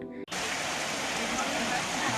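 Steady, continuous rainfall in Balrampur district, a dense broadband hiss that starts abruptly after a brief quiet moment and holds evenly loud and close throughout.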